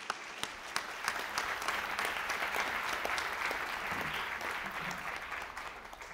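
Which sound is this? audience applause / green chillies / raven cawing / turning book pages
audience applause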